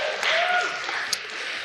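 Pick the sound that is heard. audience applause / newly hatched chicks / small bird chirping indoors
audience applause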